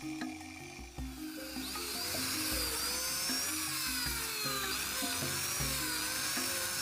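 A power drill fitted with a depth gauge bores holes in wood for a small fishing boat, a high whining motor rising and holding steady near the listener after a few short clicks and starts.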